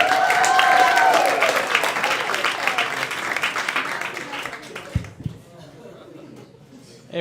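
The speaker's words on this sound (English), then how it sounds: "make a lot of noise for Christian Gomez" A comedy club crowd applauds and cheers as a comedian is brought on, loud dense clapping with whoops and chatter that thins out after a few seconds into scattered claps and quiet room noise.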